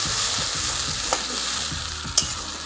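Spice paste of green chilli, onion, garlic, ginger and ripe tomato frying hard in a pan, a steady loud sizzle broken by repeated scraping stirs and a couple of sharp clacks.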